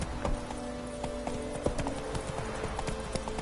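Roach's hooves gallop in The Witcher game, a dense, fast clip-clop rhythm close and loud throughout a few seconds over steady background ambience.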